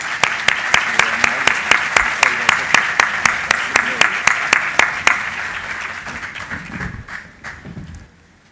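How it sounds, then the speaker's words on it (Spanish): A university lecture audience in Bogotá welcomes a speaker with loud, rhythmic applause in steady unison beats that fades out, and a voice speaks near the end. "Les pido un aplauso de bienvenida para nuestro conferencista."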